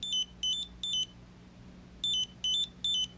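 A wallet-size Finder card tracker plays its alert: six short high electronic beeps, three evenly spaced, a pause, then three more, heard alone over a faint low hum.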